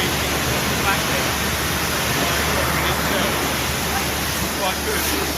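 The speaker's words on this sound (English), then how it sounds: "You can see now I'm washing it there." Steady broadband hiss of water spraying over a Ford Focus with a graphene coating during a car wash, continuous and fairly loud throughout with no pauses.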